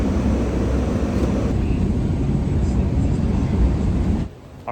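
Steady loud roar of an airplane cabin on a flight to Corpus Christi, a constant low rumble and wind noise that drops off sharply near the end.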